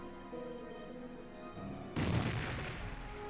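A butterfly bomb landmine detonates in Company of Heroes, a sudden loud blast with rumbling debris after a stretch of quieter battlefield ambience and a few distant faint pops.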